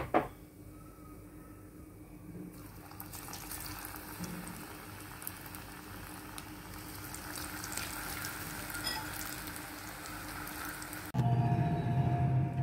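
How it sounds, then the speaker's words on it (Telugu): Cubes of paneer frying in hot oil in a pan, a dense steady sizzle and bubbling that builds slightly over several seconds, then gives way to a louder, rougher crackle near the end. "పన్నీర్ ఇటు చక్కగా వేగిపోయింది క్రిస్పీగా"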